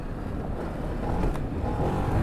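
A Ducati DesertX motorcycle ridden off road, a steady rumbling engine under wind and terrain noise, recorded close from the rider's position.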